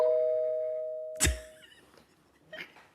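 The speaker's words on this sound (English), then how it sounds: "Did y'all hear the doorbell?" Doorbell chime at a home during a live online event: a sustained tone fading out, then a thump and a fainter knock-like sound, quiet overall with no talking over it.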